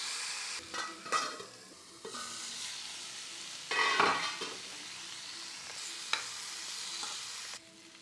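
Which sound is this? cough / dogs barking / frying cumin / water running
frying cumin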